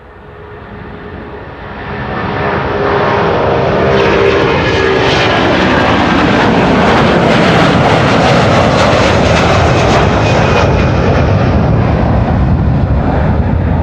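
An Airbus A330-200 airliner passes at Amsterdam Schiphol Airport, its jet engine roar swelling from moderate to a loud, sustained rumble that stays near and constant with no talk.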